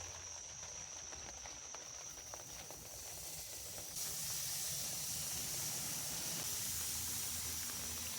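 Burger patties for a cheddar pepper caramelized onion burger sizzling on a grill, a faint steady hiss that swells louder partway through, with no talk.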